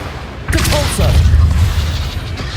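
A Depulso spell cast in the Hogwarts Legacy video game lands as a sudden booming burst of force, followed by a rumbling low tail and brief chiming magical flourishes over steady game ambience.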